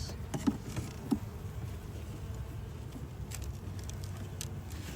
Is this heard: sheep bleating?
no